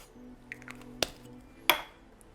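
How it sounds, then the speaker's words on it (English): A short hissing burst of avocado oil spray into a dish after a sharp click, quick and close, in a quiet room. "And spray a little bit in the dish"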